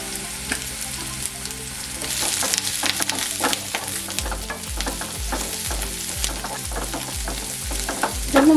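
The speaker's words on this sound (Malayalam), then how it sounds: "ഈ കരിയാപ്പിലയും ഉള്ളിയും മുളകും എല്ലാം ഒന്ന് മൊരിയണം" Shallots, green chili and curry leaves fry in hot oil with a close, steady crackling sizzle, while a spoon stirs and scrapes the pan in repeated rhythmic strokes through the second half.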